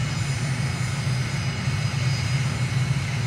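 Aircraft engine at idle during a landing approach in Microsoft Flight Simulator, with a steady, continuous low drone and hum of moderate loudness and no voices.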